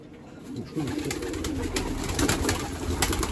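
Soft, throaty cooing of pigeons close by, several overlapping calls in a low burbling rhythm with faint rustling.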